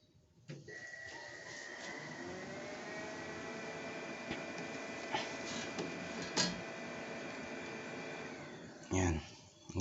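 A HONJET sublimation printer runs a head test after a DX11 printhead replacement, giving a steady mechanical whir with a tonal hum, a few faint clicks, and a brief thump near the end.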